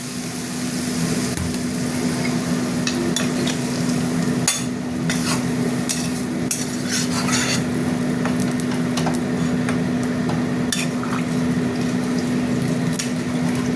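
Spices stirred and scraped in a pan, with potatoes and pointed gourd cooking for a thin curry: repeated scraping and knocking strokes of a spoon against the metal pan over a steady cooking hum, up close.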